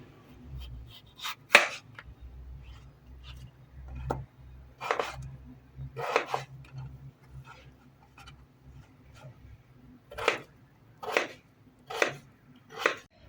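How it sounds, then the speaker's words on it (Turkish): Steady knife chops dicing potatoes into cubes on a cutting board, crisp separate thuds coming in irregular bursts, close and clear against a quiet background hum. "Kesme şeker büyüklüğünde küp küp doğramaya başladım."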